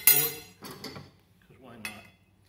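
A spoon clinks against a dish of braised short ribs, a few sharp separate taps with short pauses between them, close and clear in a quiet room.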